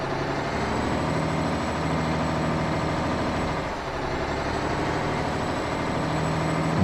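Heavy truck engine idling and revving in American Truck Simulator, a steady loud diesel rumble with harmonic drone that dips briefly and swells again, with no talking.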